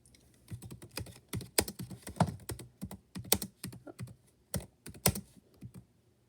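Rapid keystrokes on a computer keyboard, clustered in uneven bursts with a few sharper, louder key hits, close to the mic with no speech.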